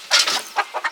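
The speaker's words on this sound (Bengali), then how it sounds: "দুইটা মোরগ আছে, মুরগি নেই।" Fighting-breed roosters cluck in a quick burst of close, loud calls, followed by three shorter, sharper clucks in the last half second, with no talking.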